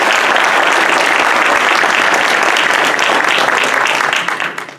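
An audience at a startup challenge finale applauds the participants, a loud, dense burst of clapping from a crowd that holds steady for several seconds before tapering off at the end.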